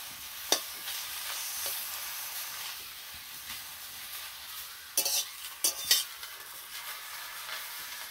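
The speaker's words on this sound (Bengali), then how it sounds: "এবার এগুলোকে আমি একটু ভালো করে নেড়ে নেব।" Chopped onions are stirred in a pan on a stove, a soft steady sizzle punctuated by several sharp utensil scrapes and clinks against the pan, close and fairly quiet, with no talking.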